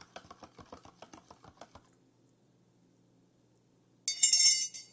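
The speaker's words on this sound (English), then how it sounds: "Then I'm going to stir it up." A spoon stirs two teaspoons of sugar into a cup of coffee, giving a quick run of light, close clinks against the cup wall, then stopping before a brief brighter ring.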